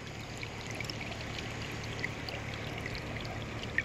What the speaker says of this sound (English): You can see there's just a little bit of water dripping down in there.